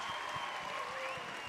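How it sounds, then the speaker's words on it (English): Audience applause at a panel event, a brief, soft spatter of clapping from a seated crowd, heard faintly at a distance. "give her a big round of applause"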